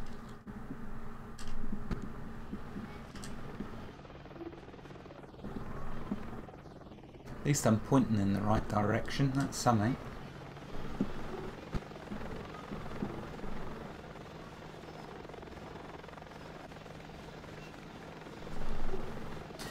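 A plane flying in Planet Explorers, a steady low engine drone with rotor-like flutter running beneath someone talking, a louder rattling burst midway and clicks scattered throughout.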